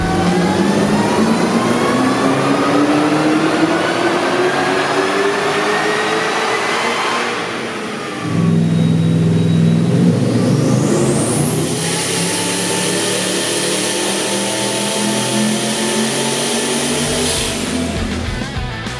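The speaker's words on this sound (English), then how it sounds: "In the boosted V8 class, the final battle was between Mal Schoch's FGX Falcon and Rick Tom's LQ9" Boosted V8 engines, including an FGX Falcon and an LQ9-powered VH Commodore, revving hard on a Summernats dyno; a loud continuous roar with rising pitch sweeps, a brief dip near the middle, then a second sustained high-rev pull.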